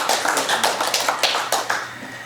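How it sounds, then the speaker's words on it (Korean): An audience at a Korean judicial-justice civic rally claps after a song, sharp claps falling in a fairly regular, almost unison rhythm, close and clear, then tapering off. "큰 박수 부탁드리겠습니다"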